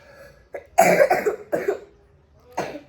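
Several sharp coughs from a girl in quick succession, close and loud, with short pauses between bursts and one final cough after a gap.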